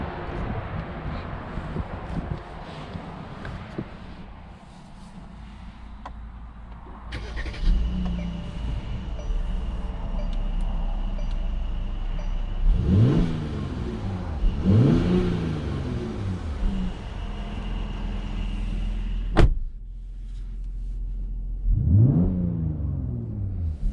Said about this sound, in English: let's go ahead and take this GLC 43 AMG on a test drive and see how it does.